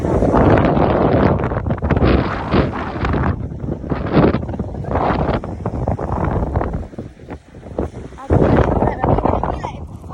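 Strong wind blows across a beach at Maraetai in Auckland, a loud continuous roar and buffeting against the microphone, with people talking throughout.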